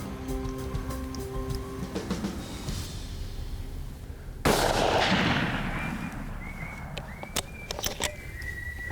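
A single gunshot fired at a coyote during a night hunt: one loud, sharp crack midway through, with a long fading rumble. Quiet outdoor ambience and scattered faint chirps come before and after it.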